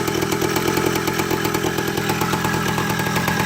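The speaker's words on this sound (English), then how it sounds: "Look at that idle." A Kawasaki KE100 motorcycle, converted from points to CDI ignition, idles loud and close with an even, buzzing engine note that holds steady throughout, no voices.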